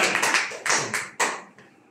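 A few sharp claps from an audience, close and loud in a brief uneven burst of about five or six hits that taper off quietly.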